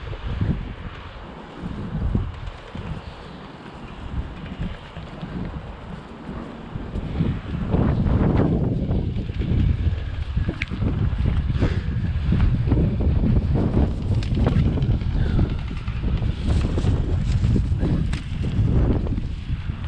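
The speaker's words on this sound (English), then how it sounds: "It's a little bit windy up here" Wind buffets the microphone in heavy low rumbling gusts, growing stronger and more constant midway through, with no talking.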